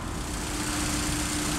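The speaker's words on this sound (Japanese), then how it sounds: "はい、ではエンジンかけてみたいと思います。" A Honda S2000 AP1 with about 160,000 km idles steadily close by, a smooth, even engine hum that holds constant throughout the short stretch.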